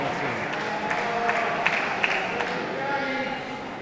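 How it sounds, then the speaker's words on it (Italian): Audience applause at a Serie A raffa bocce match, a moderate spread of clapping heard under a commentator's continuous talk, with a few sharper claps standing out. "Applausi"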